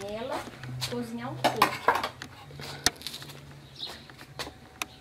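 Metal pots clank and rattle nearby as pumpkin pieces go into a cooking pot, with several sharp knocks and scraping clatters spread over a few seconds and a voice speaking quietly at the start.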